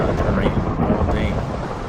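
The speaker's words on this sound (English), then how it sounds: "I hate this rain, it's really horrible. It's been raining all day." Rain and thunder in Minecraft, a loud, dense rumbling roar over continuous rainfall, with no voices.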